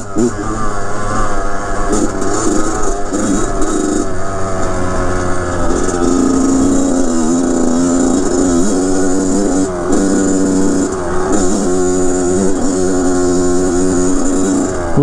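A 2007 Kawasaki KX 100 dirt bike engine drones loudly and continuously while being ridden off-road over rocks, its pitch wavering as the throttle rises and falls.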